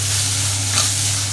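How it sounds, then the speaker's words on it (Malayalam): Crushed ginger, garlic and green chilli sauté in a pan, giving a steady, close hiss of frying with a faint stir partway through and no talking. "ഇഞ്ചിയും വെളുത്തുള്ളിയും പച്ചമുളകും ഒക്കെ ഒന്ന് മൂത്ത് വന്നിട്ടുണ്ട്"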